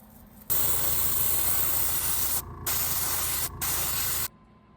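An airbrush sprays metallic gold paint through an avocado mesh bag onto a spinnerbait lure, a loud steady hiss in three bursts split by brief pauses, with no talk over it.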